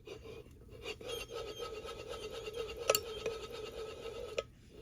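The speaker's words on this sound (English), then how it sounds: "you can tell that the bearing on the ignition side is starting to go" A worn crankshaft bearing from a Stihl 044 chainsaw being turned by hand, giving a continuous dry gritty rasping and rubbing with a few faint ticks, close up and quiet, no speech.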